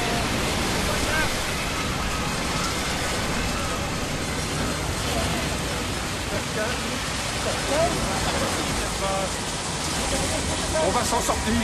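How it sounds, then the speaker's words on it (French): Strong sea waves and heavy rain in a storm make a dense, steady roar of crashing water and hiss throughout, loud and continuous, with a voice faintly mixed in. "Les vagues sont trop fortes! Nous allons couler!"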